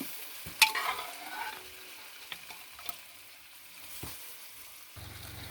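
Dried tapioca and cowpea being stirred in a hot pan, a soft scraping sizzle with a sharp clatter near the start and a few scattered knocks, close and fairly quiet, with no talking.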